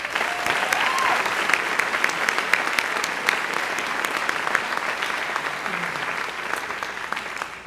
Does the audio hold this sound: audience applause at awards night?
yes